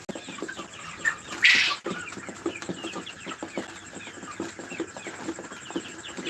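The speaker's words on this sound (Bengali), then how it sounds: "দেখতে পাচ্ছেন মুরগিগুলো কিন্তু খাচ্ছে" Chickens, some of them tiger-breed birds, cluck softly as they eat at night, with a soft, scattered patter of pecking and one brief louder squawk near the start.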